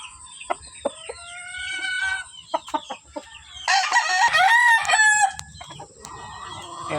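Several roosters and chickens crow and cluck close by among gamefowl, with scattered short calls early on and a loud overlapping burst of crowing in the middle, then quieter clucking.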